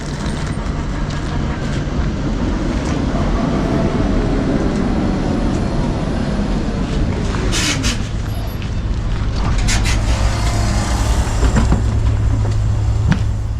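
An old M29-type tram in Gothenburg rumbles in with a low engine drone, metallic squeals and clanks rising near the end as it draws close and loud.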